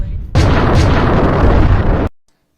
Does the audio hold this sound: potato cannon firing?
yes